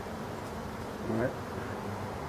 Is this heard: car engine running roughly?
no